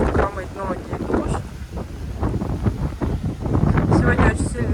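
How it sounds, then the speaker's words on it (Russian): Strong wind at a beach on Cuba roars steadily and buffets the microphone throughout, with deep rumbling gusts and surf in the background while a person talks over it. "Сегодня очень сильный ветер."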